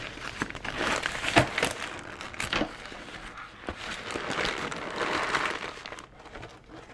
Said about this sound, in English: We're gonna go ahead and unwrap it.